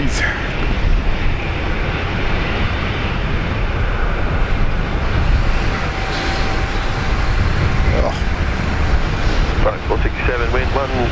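A Solomon Airlines airliner taxis at Brisbane Airport, a constant jet engine rumble and whine at some distance, with a person talking over it and a brief radio call near the end.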